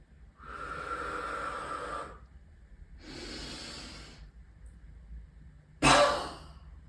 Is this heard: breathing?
yes